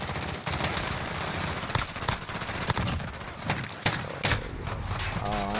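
Rapid bursts of FAMAS rifle fire in the Modern Warfare shooter, dense, close and crackling throughout with several sharper shots standing out, plus faint game noise.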